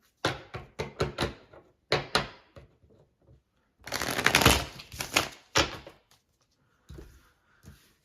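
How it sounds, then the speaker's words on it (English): Crisp bursts of cards being shuffled and riffled, several quick rapid flurries separated by short pauses, close up with no talking. "Some of these decks, they seem to want to shuffle the other way now."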